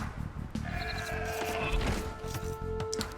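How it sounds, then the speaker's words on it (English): Sheep bleating in the video game Age of Empires II, a few clear, close bleats rising over low background game sounds, with no talk over them. "Hello there, more sheep."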